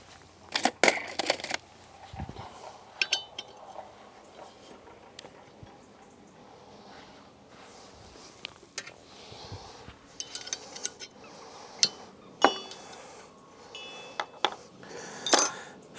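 Small metal Allen bolts from a BMW K75 motorcycle clink sharply as they are handled, scattered bright taps with quiet pauses between them.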